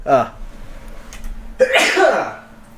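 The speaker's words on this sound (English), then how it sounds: "Did you hit the sneeze button there?" A sneeze sound effect from a soundboard button during Dota match commentary, a short breath sound followed by a loud burst of a sneeze, with voices nearby.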